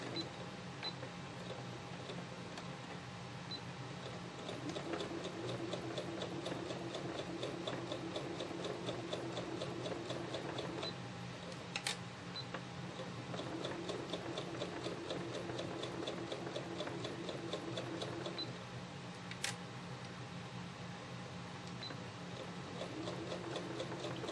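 A sewing machine stitches quilt fabric in repeated bursts of rapid, even mechanical ticking, pausing briefly between runs, close and fairly quiet.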